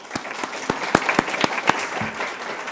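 Audience at a school board meeting claps for an elementary school award winner, with sharp individual claps standing out over a steady spread of applause, close and lively.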